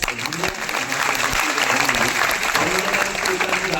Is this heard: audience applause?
yes